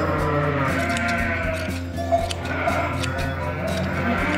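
Sheep bleat in a Turkish village during spring shearing, several calls rising over a busy farmyard with steady background noise.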